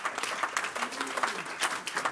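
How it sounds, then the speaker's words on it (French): A church congregation applauds during a pastor's sermon, a short burst of dense clapping lasting about two seconds with a voice faintly mixed in. "donnons une acclamation au Seigneur"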